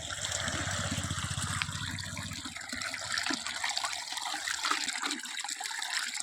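Irrigation water runs along a field channel into a groundnut field with a soft gushing, trickling flow at modest force. A low rhythmic rumble underlies the start and fades midway, leaving only the water.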